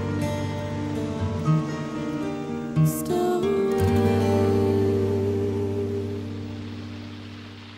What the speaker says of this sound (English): that's nice how they have the wave at the end